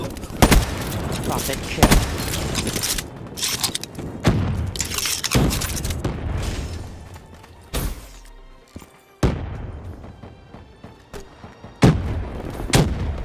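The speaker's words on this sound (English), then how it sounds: "Grenade! Move! Move!" Grenade blasts and bursts of gunfire in a Black Ops 3 team deathmatch, with loud booms and rattling shots repeating throughout, some sharp and close, under and between a player's voice.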